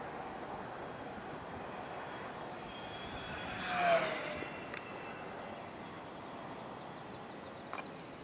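An FMS P-39 Airacobra 980mm RC warbird model plane passes at full speed with the wind, its faint engine whine swelling to a brief peak and fading against steady outdoor wind noise.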